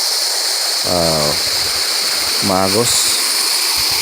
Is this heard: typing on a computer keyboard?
no